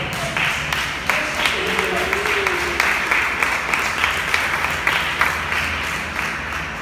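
A church congregation claps in a steady rhythmic beat during a Spanish-language sermon, moderately loud handclaps with a faint voice underneath.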